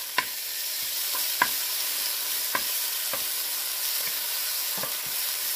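White onion sautéing in a pan for beef bone marrow soup, an even moderate sizzle with scattered sharp taps of a spatula against the pan every second or so.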